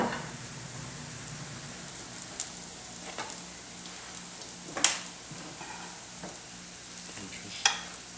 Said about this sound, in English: Keep them warm in the oven while you fry them